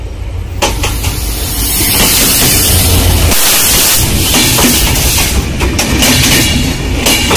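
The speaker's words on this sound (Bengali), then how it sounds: "দ্রুতযান এক্সপ্রেস আসছে" The Drutojan Express, hauled by locomotive 6629, rolls loudly into a Bangladeshi station with a heavy rumbling roar, rhythmic clicks of wheels over rail joints and a hissing rush, close by and with no talking.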